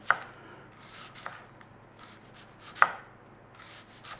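Red onion sliced thin with a knife, a few sharp separate chops against a board spaced over a few seconds, near and soft, with no talk.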